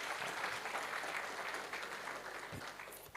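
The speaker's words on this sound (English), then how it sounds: "Let's give him a round of applause" Sustained audience applause at a Battle of Cuito Cuanavale commemoration and day of reflection, a dense steady clatter of many hands filling the room for about three seconds, fading slightly near the end.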